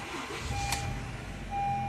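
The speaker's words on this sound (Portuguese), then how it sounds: "Vou ligar o carro." A Honda Civic G9 being started: a short burst as the engine catches, then a steady low idle rumble, with clear electronic chime tones beeping throughout, close and moderately loud.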